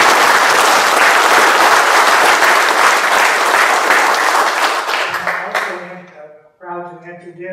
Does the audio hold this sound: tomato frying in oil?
no